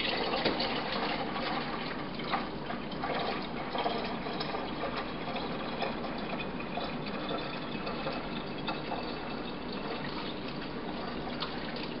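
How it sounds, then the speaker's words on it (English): Lemon syrup poured into two cups of water for lemonade, a steady continuous liquid stream trickling and splashing for the whole stretch at an even, moderate level with no voices. "I'm going to go ahead and take my lemon syrup, and I'm going to go ahead and pour it into my 2 cups of water"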